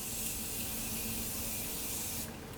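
Makeup setting spray hisses out in one long, steady, close burst lasting over two seconds, then cuts off abruptly.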